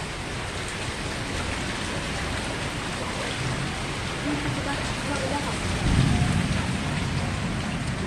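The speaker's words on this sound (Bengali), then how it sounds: "এখন দেখেন কেমন বৃষ্টি পড়ে।" Heavy rain pours down steadily in a Bangladeshi village yard, a loud, dense hiss of drops that continues throughout, with a low rumble swelling near the end.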